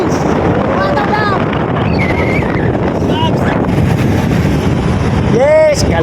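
Loud, steady wind rush buffets the microphone throughout while riding on a family motorcycle, with excited voices shouting over it and a few short whistle-like tones.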